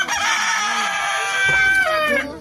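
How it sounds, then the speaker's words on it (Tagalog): A rooster crows once, loud and close, in a long drawn-out call that rises and then trails off. "manok ko guys, tumitilaok na."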